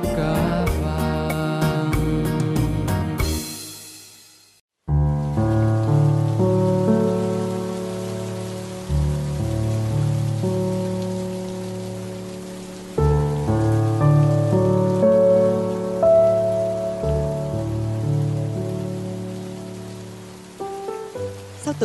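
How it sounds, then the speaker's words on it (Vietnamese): Steady rain patters and hisses beneath loud tonal music during a televised Vietnamese singing show, with a brief pause in the music near the start. "tự nhiên mới đây mà trời mưa rồi ta"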